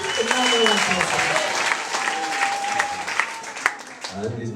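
Church congregation applauding at a Christian testimony gathering, a dense steady wash of clapping throughout with a voice speaking over it and the applause thinning toward the end.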